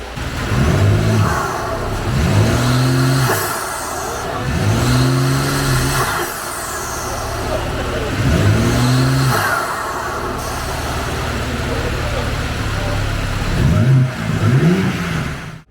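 A 2024 BMW M3 CSL engine with an aftermarket front-mount filter intake starts and revs repeatedly in short rising bursts, loud and close, settling between blips into a steady rumbling idle.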